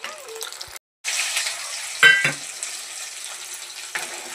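Onion gravy added to a hot pan where curd has been browning, for a paneer dish; loud frying sizzle broken by a short silent gap, then a burst of splashing and stirring clatter over continued sizzling.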